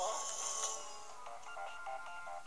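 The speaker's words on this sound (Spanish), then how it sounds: "Me llaman por teléfono." A telephone rings inside the haunted mansion of the video game Luigi's Mansion 2, a repeating electronic ring pattern heard up close over the game's background music.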